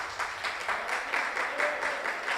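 A church congregation applauding during an evening communion service, a steady wash of many hands clapping at moderate distance with no voices standing out.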